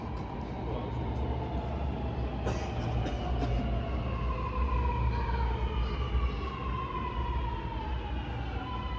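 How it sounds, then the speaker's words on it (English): A Sydney Metro train enters a platform at Gadigal station, with a continuous low rumble and rising-and-falling whining motor tones sweeping across, plus a few brief clacks partway through, all at moderate loudness. "Train to Sydenham is going to enter platform number 3."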